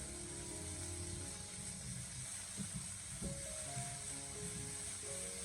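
Minced meat stir-fries in a wok over low heat, making a steady, faint sizzling hiss with light scraping throughout and no voices.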